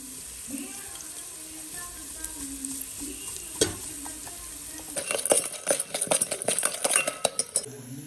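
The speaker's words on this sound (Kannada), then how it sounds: "ಈಗ ಹಸಿಮೆಣಸಿನ್ಕಾಯಿ ಹಾಕ್ತಾ ಇದ್ದೀನಿ" Green chillies frying in hot oil for a rice vermicelli dish: a soft sizzle and brief voice at first, then a quick run of loud metal spatula scrapes and clinks against the pan as they are stirred.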